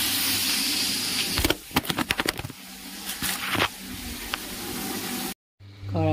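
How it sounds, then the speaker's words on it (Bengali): Fish fries in oil in a wok, a steady sizzle broken by a burst of sharp crackling pops in the middle, then the sound cuts out briefly before resuming. "মাছটা ভাজা হয়ে যাক।"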